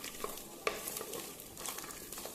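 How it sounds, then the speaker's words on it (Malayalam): Jackfruit seeds stirred while dry-roasting in a hot clay pot: a steady close scraping and rustling with faint sizzling and a few sharp knocks, no voices. "ചക്കക്കുരു ഇട്ട് കൊടുത്ത് നന്നായി ഒന്ന് ഇളക്കി കൊടുക്കാം."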